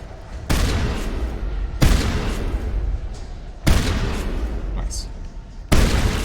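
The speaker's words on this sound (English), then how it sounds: "We've got a super ridiculously powerful shotgun here." Shotgun blasts in Mass Effect, four loud, booming shots spaced about every one to two seconds, each with a decaying rumble, over game background noise.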